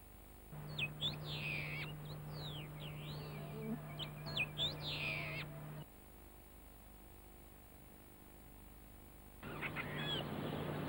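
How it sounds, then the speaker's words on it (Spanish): A Patagonian mockingbird sings a varied, warbling song with whistled phrases over a steady low hum in Patagonian scrubland, pausing briefly before resuming near the end. "El canto de la calandria patagónica es característico en el monte."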